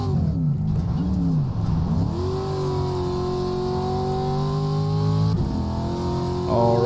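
Pro 2 Lite race car in iRacing on a dirt road course, the engine lugging at real low RPM with a low tonal drone whose pitch wobbles, then climbs and holds steady before brief shifts near the end.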